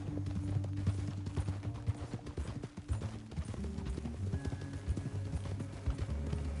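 A horse's hooves clip-clop at a steady trotting rhythm in the video game Red Dead Redemption 2, quiet and continuous under low background music.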